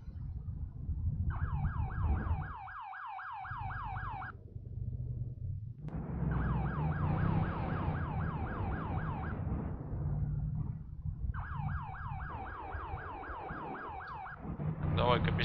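A police car siren in the video game Arma 3 wails, cycling up and down in three long bursts with short gaps, over a low rumbling engine and road noise.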